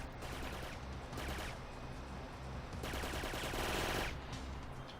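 Dense, continuous gunfire crackles through a video game firefight with snipers, loud and busy with overlapping shots and no clear gaps, swelling slightly toward the end.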